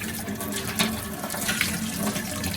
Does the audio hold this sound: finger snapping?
no